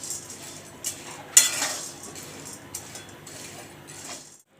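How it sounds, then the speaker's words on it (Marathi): Sago pearls roasting dry in a pan while being stirred, with a soft scraping of the spoon against the pan and a few sharper clinks, faint sizzling beneath, fading out at the end. "हे बघा छान असा भाजत आलाय साबुदाणा"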